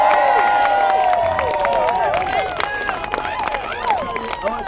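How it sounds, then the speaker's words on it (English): An audience at a BVB tournament event applauds and cheers, a dense roar with whistles and shouts over it, loud at first and then thinning slightly. "Another hand of applause for Mary."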